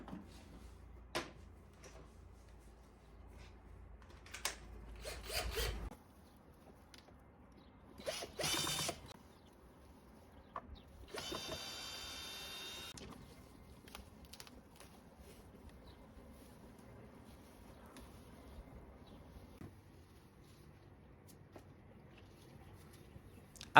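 Screws being backed out of the floor of a wooden dog porch potty with real grass: three short, loud whirring power-driver bursts separated by quieter handling clatter and near-silent pauses.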